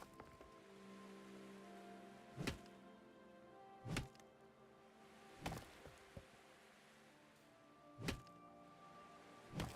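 In the video game Voyagers of Nera, a tree is struck repeatedly: five or six sharp, hollow thunks come at roughly even intervals over faint, quiet background noise, with no talk.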